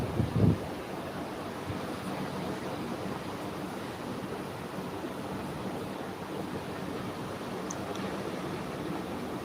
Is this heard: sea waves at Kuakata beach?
yes